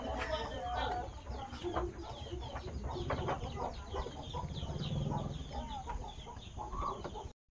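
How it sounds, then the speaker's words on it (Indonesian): Chickens cluck and squawk steadily at close range in a village, several birds overlapping in a busy outdoor scene, with a faint rooster call and some background voices. "ciri khas di kampung itu adalah suara ayam."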